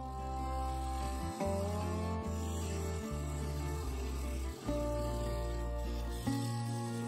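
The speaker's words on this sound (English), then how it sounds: "Then I used a thin parting tool to cut the outer edge of the mortise." A thin parting tool cuts into the base of a yew bowl on a wood lathe, a steady tonal whine and scrape with brief dips as the cut pauses.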